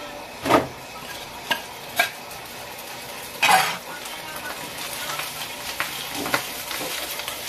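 Rice stir-fried in a hot pan, with a steady sizzle and repeated sharp scrapes and clanks of a utensil against the pan, several of them louder bursts, close up with no talking.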